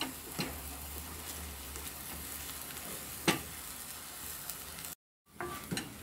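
Minced meat fries in a pan with a soft, continuous sizzle, broken by occasional stirring scrapes and a brief cut near the end. The sound is faint and close, and nobody speaks.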